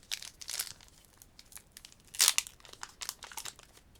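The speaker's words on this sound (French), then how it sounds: "je déchire un peu le booster" A Pokémon booster pack foil is crinkled and torn open close up, with rustling crackles and one louder ripping burst in the middle, no voices.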